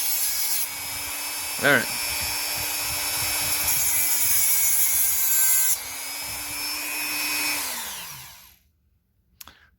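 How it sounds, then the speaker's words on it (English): A Dremel rotary tool fitted with a cutting wheel whines at a steady high pitch while cutting, running for about eight seconds before spinning down, with a brief spoken word near the start. "This Dremel don't get a hold of you, because it is a cutting wheel that's on here, and it will cut you."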